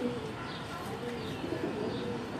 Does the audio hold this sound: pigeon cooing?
yes